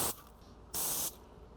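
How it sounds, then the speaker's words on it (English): Short hissing bursts from a paint sprayer: a brief spray at the start, then a louder spurt of about a third of a second, with quiet background between. "You'll notice it's spraying and then dripping all over the bloody place."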